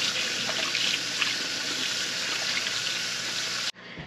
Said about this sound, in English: we're gonna make sure to wash our hands first